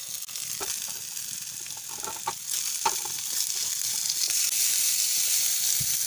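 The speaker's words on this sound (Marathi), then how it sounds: "टोमॅटो आणि कांदा हलकासा लालसर रंग येईपर्यंत परतून घ्यायचे." Chopped tomatoes and onion frying in a pan, a steady close sizzle with faint stirring clicks and scrapes, growing slightly louder toward the end.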